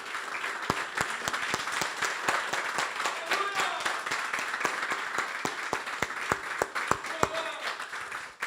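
Church congregation applauds in honour of mothers during a Portuguese-language sermon, steady crowd clapping throughout with sharper individual claps and shouts rising over it and faint voices mixed in.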